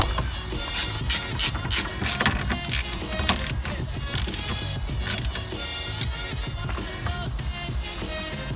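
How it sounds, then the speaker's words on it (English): Ratchet tightening the wiper motor mounting bolts on a Vauxhall Corsa C, heard as a run of quick, loud clicking bursts up close at the start, then steadier mechanical clatter and rattling without speech. "I'm gonna tighten this bolt here"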